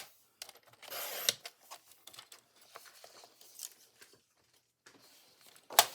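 Material is trimmed to size for a craft project, with a few crisp cuts and rustling handling sounds, close and fairly quiet, ending in a sharp snip.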